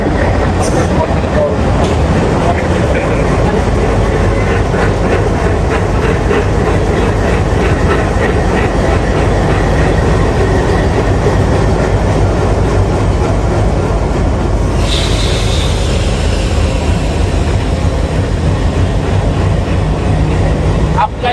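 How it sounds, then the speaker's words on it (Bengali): Train locomotive at an old border railway station, changing ends and pulling forward, a loud continuous rumble with rhythmic wheel clatter and a brief hiss partway through, with some talk mixed in. "সে তার ইঞ্জিন চেঞ্জ করে সামনের দিকে এগিয়ে যাচ্ছে"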